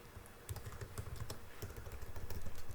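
Computer keys clack in quick, uneven bursts of close taps while a macro name is typed into an Excel dialog, steady and moderately loud with no voices.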